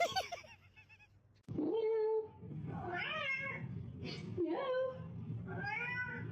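A cat meows repeatedly, several drawn-out, rising and falling cries close to the microphone, with a brief gap early on before the calls resume.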